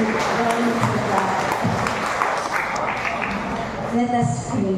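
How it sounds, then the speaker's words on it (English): A church congregation claps in praise, a steady, sustained wash of many hands applauding together, with voices speaking and calling out over the clapping throughout. "let's give a clap of praise unto the Lord"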